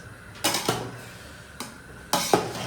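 Steel utensils and pots clatter and knock in a home kitchen while dishes are scrubbed, with three or four sharp clanks spaced over a steady background hum.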